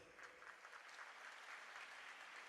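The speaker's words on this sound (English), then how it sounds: "Please give a round of applause." Steady applause from an audience at a library week launch event, a dense wash of clapping that holds at an even level throughout.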